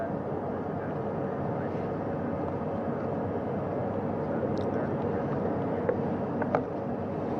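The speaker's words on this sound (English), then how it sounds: "That first helicopter now on its way back to the ship here." A helicopter carries an astronaut back to the recovery ship after a moon-mission splashdown, giving a steady, distant engine and rotor drone that holds evenly throughout with no talking.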